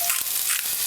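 Porcini mushrooms frying in oil in a pan, a continuous close bright sizzle with faint crackles throughout.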